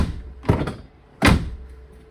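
Car door on a Ford Fiesta ST, two solid thunks about three-quarters of a second apart, the second louder and sharper, close by with no talking.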